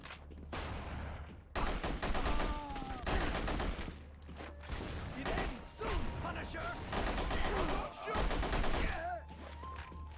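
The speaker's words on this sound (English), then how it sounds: "There's guys with shotguns here, and I need you to absorb the bullets." Shotgun blasts and gunfire in The Punisher (2005) on PC, repeated loud bursts in quick clusters over a steady low game rumble, with brief pauses between volleys.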